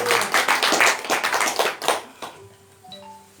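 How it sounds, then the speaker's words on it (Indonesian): A church congregation claps their hands in praise to Jesus during an evening healing prayer service, a loud burst of many hands that tapers off and fades after about two seconds into quieter room sound. "Tepuk tangannya dong buat Tuhan Yesus."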